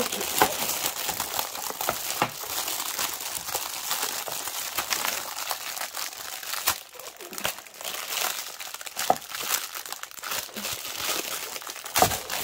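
Plastic packaging from diamond painting storage containers is unwrapped, crinkling and crackling loudly and closely for the whole stretch, with brief tearing bursts and no talking.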